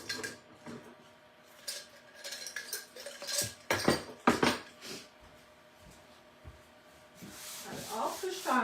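Squeegee dragging white ink across a silk screen onto a tea towel, heard as close, uneven scraping and rubbing strokes in bursts with brief pauses, a couple of louder swipes near the middle and more rasping toward the end.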